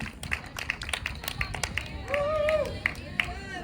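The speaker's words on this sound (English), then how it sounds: "Round of applause." Scattered, uneven clapping from an outdoor crowd at a May Day rally and union walkout, with individual sharp claps and voices calling out over it.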